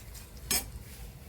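A single short metallic scrape of a spoon against a pan while stirring a mango pickle tempering, close and quiet over faint background hiss, with no talk.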